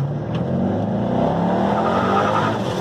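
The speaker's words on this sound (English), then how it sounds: "I could actually do some wide open throttle full pull runs" A supercharged LS V8 in a C5 Corvette pulls at wide open throttle, a loud, continuous engine roar whose pitch climbs steadily through the run, heard alone without talk.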